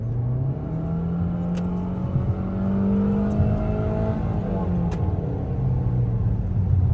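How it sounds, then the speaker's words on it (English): A 2020 Toyota Corolla with a CVT accelerates at full throttle, its engine holding a steady droning whine that climbs gently as cabin road rumble runs underneath, with a few faint clicks. "I think that's just the sound of the CVT."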